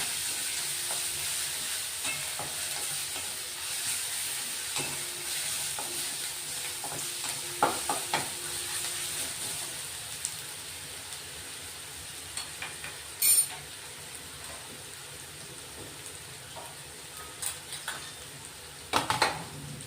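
A paste of garlic, ginger and green chili sautéing in a pan with onion, a soft continuous sizzle with occasional metallic clinks and scrapes of a utensil against the pan, louder taps near the end.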